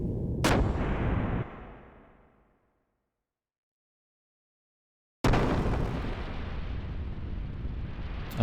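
Gun blasts and artillery fire from the video game Xenogears: a sharp loud blast with a roaring tail that fades into silence, then another heavy sustained roaring barrage.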